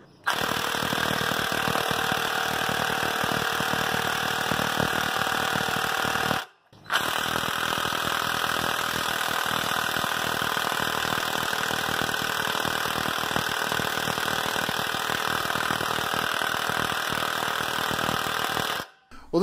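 A Harbor Freight impact wrench runs in a wrench comparison, a loud continuous rattling hammer that holds steady for about six seconds, stops briefly, then runs again for a long stretch.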